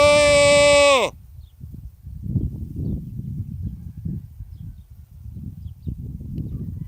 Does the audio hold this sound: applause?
no